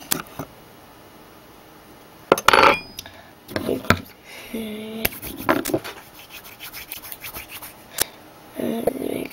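A knife cuts pepperoni slices for a Bratz doll pizza: small, close scraping and tapping clicks against a hard surface, scattered and irregular, with quiet pauses between.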